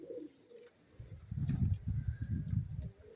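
Yellow nun pigeons coo in a repeated, soft low rhythm, fairly close, with faint background noise and a few light chirps above.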